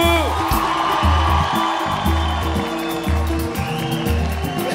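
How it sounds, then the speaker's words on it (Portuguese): Live samba show crowd at Xande de Pilares and Mumuzinho's 2019 concert, whooping and cheering loudly over rhythmic band music, with scattered clapping mixed into the steady crowd roar. "Dá uma salva de palmas,"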